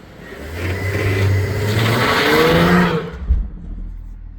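A BMW 335i doing a rolling burnout, the engine climbing in a loud, rising rev for a few seconds before cutting back abruptly to a low idle rumble.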